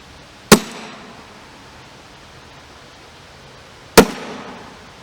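Two sharp, loud gunshots from a Ruger 2245 pistol firing subsonic 22LR CCI segmented hollow point rounds, spaced about three and a half seconds apart, each with a brief decaying tail, with no talk.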